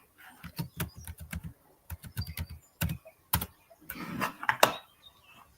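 Bursts of keystrokes on a computer keyboard, typing in quick clustered runs with short pauses, close and clear with no talking.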